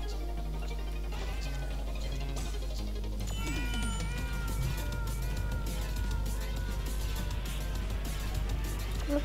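A cat meows repeatedly in the Tower Unite race video game, rising and falling cries over a dense bed of game music, engine-like noise and a steady low hum.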